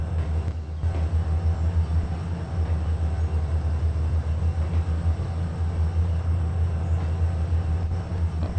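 A 10,000-ton freight train in the Trainz 2022 railway simulator gives off a steady, heavy low rumble that holds loud and even for the whole stretch, with no voices over it.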